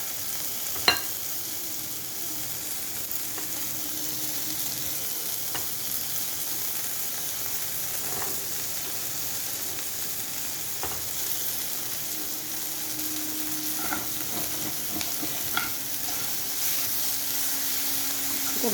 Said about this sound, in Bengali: পেঁয়াজ রসুনটা একটু ভাজা হলে একটু লাল লাল হয়ে গেলে এতে দিচ্ছি আমি এবার টমেটো পিউরি।